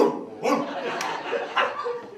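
A man imitates a big dog, letting out a few loud, gruff vocal barks in short bursts, with some laughter from a live theater audience mixed in.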